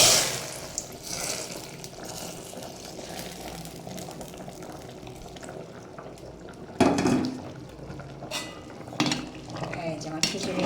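Vegetable sweet potato khichuri gets its tempering (phoron) added, then a utensil stirs and scrapes around the pot with steady clinks and a couple of sharper metallic knocks, close and with no voices.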